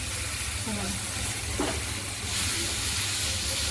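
Prawn curry masala sizzling in hot oil in a pan, giving a continuous broadband hiss with a steady low hum underneath and a brief faint sound near the middle.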